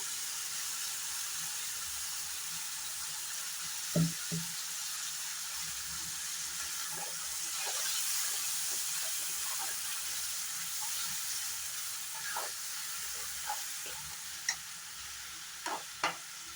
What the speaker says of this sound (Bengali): আবার 1-2 মিনিটের মতো ভালো করে মশলাটা ফ্রাই করে নেব